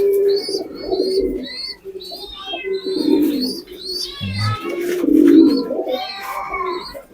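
A racing pigeon coos in low, throaty bursts, with thin chirps from other birds scattered above and no one talking.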